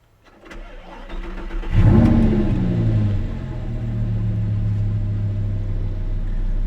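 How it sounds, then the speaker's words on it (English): An Audi R8 with a V10 engine cranks and fires up warm, flaring loudly for a moment before settling into a steady, deep idle rumble, heard alone and up close. "So let's start her up"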